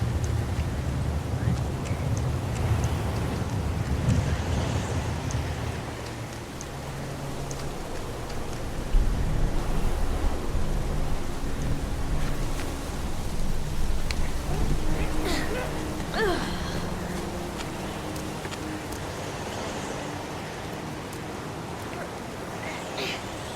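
Steady rain pours down in the Heavy Rain video game, a continuous hiss of drops on surfaces with gusty wind noise, occasional voices and a few sharper knocks mixed in.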